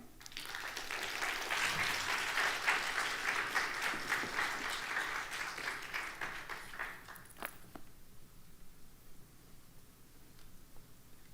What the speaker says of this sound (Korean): 여러분들의 환영과 뜨거운 격려의 박수로 맞이하도록 하겠습니다